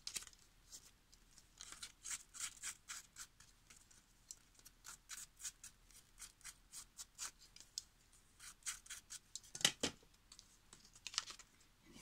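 Scissors cutting paper for a mini folder journal insert, a quiet run of quick, crisp snips and rustles close by, with a sharper snip near the end and no talking.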